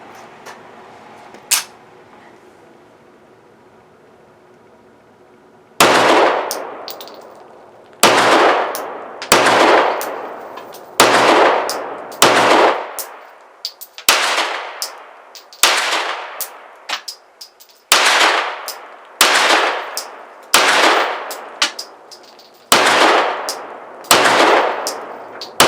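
A Girsan MC P35 9mm Hi Power clone pistol fires steel-cased ammo at an outdoor range, a string of about a dozen loud, sharp shots at an uneven steady pace, each ringing out briefly, after a quiet opening with one faint click.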